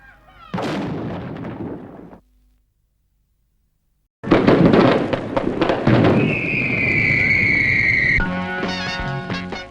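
A Guy Fawkes Day fireworks bombardment booms and crackles loudly in dense bursts, breaks off into a brief silence, then returns as a sustained barrage with whistling and fizzing rockets, with no talk.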